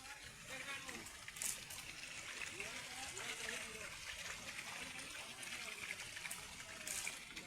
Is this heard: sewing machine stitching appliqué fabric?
no